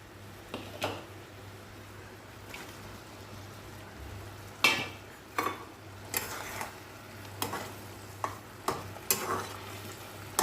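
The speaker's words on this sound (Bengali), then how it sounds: "এখন পটলগুলো দিয়ে দেবো" Pointed gourd and prawns frying in a pan, stirred at intervals: a steady close sizzle with repeated scraping clacks of the spatula, some sharper knocks toward the end.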